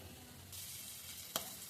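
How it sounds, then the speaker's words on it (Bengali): Onion frying in oil in a pan, a quiet, steady sizzle that swells after a moment, with one brief sharp tap of a utensil near the end. "নেড়ে ছেড়ে পেঁয়াজটা ভেজে নিচ্ছি, আরেকটু ভাজা হোক"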